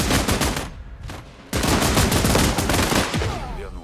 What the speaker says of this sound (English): Someone's got a very high rate of fire machine gun too.